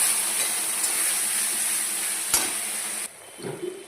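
Spice paste hits hot oil with a loud, even sizzle and hiss for about three seconds. The sizzle then drops away abruptly, leaving a few soft stirring clatters.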